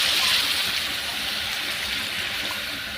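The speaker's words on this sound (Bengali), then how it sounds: "এবার এটা আমি জল দিয়ে দেবো।" Hot water pours steadily into a pan of fried masala while cooking at home, a continuous close gushing splash that fades slightly toward the end.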